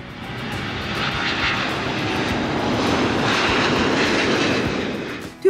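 The ANKA-3 unmanned combat jet, a Turkish stealth drone, flies past loaded with munitions, a steady broad engine roar swelling and holding for several seconds with no voices over it.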